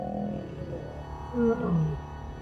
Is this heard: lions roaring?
yes